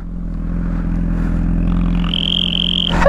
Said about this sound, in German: Hört ihr das? Hört ihr diesen Turbo-Sound?